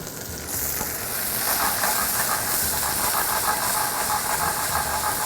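Onions and salami fry in their own fat in a pan over medium heat for a tomato pasta, giving a loud, continuous close-up sizzle and hiss that starts abruptly and stays steady throughout.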